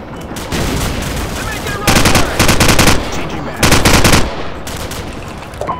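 Heavy automatic gunfire from the Call of Duty 4: Modern Warfare campaign comes in several loud, rapid bursts of machine gun fire with brief gaps between them. Battle noise stays constant underneath the shooting.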